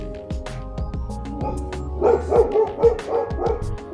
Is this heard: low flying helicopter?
no